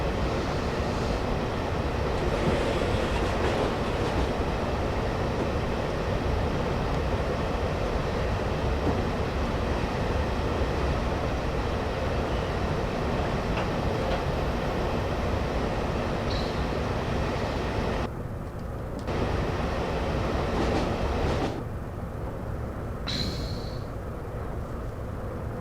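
A train in the Great Western Mainlines video game rumbles steadily past a train care depot, a loud continuous rolling roar that briefly drops away twice near the end.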